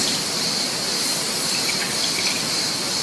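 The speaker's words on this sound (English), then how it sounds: "squeeze the water out of our zucchini" A steady hiss of water streaming and dripping out as grated zucchini is squeezed in a cloth, continuous and fairly loud throughout, with no voices.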